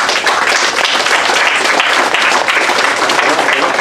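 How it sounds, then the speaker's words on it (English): A ceremony crowd celebrating the people of Cayo West and Benque breaks into loud, sustained applause, a thick, continuous wash of many hands clapping at close range that holds steady for several seconds. "Let's give them a great round of applause."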